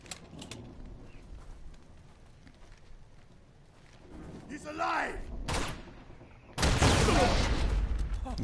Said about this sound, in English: you shoot the lock